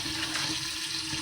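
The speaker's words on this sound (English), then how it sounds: "let me turn this water on" Hot water from a kitchen tap runs steadily into a sink, a continuous close hiss and splash with no voices over it.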